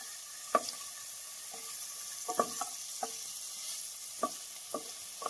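Ingredients for a white pasta sauce sautéing in a pan, with a steady sizzle throughout and periodic scraping clicks of a spoon stirring against the pan every half second or so, no voices.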